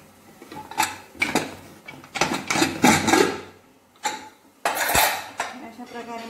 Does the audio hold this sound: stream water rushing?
no